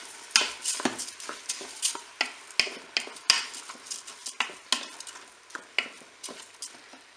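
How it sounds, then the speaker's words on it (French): Rice being stirred in a Cookeo pot: a rapid series of close scraping and tapping strokes of a spoon against the pot, with a faint sizzle underneath. "Je vais mélanger."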